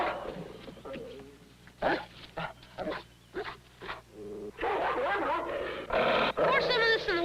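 A dog gives short, rough barks and growls in uneven bursts, mixed in with other voices and background noise.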